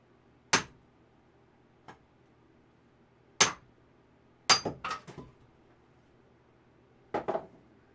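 Hammer strikes in a video game: a few sharp, isolated impacts spaced seconds apart, some followed by quick rattling clusters of smaller knocks, fairly close and alone against a quiet background.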